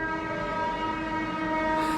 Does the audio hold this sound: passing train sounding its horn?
yes